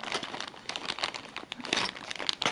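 Plastic packaging for a parcel of Xbox controller parts (triggers, bumpers, thumbsticks, ABXY buttons) is crinkled and torn open, a close, continuous rustling and crumpling with sharper tearing bursts throughout.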